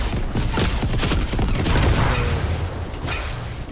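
Explosions from an airstrike in a video game boom and rattle loudly and continuously, a dense, close barrage of blasts and debris with no pause.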